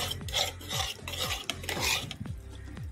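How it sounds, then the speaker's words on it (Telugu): Chicken pieces get mixed with cornflour powder and soy sauce in a metal pan, a spoon scraping and clinking in steady repeated strokes, close and without talk. "కార్న్ ఫ్లోర్ పౌడర్ అంతా కూడా వేసుకొని కలుపుకోవాలి"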